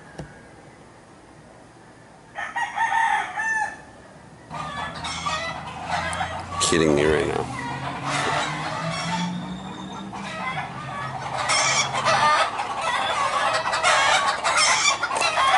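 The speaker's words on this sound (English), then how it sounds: "roosters were squawking all bloody night" Roosters in Sayulita, Mexico crow and cluck from a nearby chicken coop, several loud overlapping calls filling the scene after a quiet start, with a brief exclaiming voice early on.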